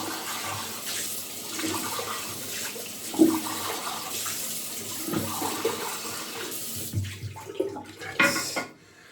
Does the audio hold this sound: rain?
no